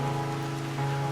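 Rain keeps falling in a continuous, moderately loud wash of patter while someone shelters under an umbrella, with a faint steady tone beneath and no one speaking.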